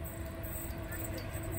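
Continuous rumble of a freight train carrying containers passing through Dąbrowa Górnicza Główna station, a steady near drone with whining tones, with a voice faintly audible underneath.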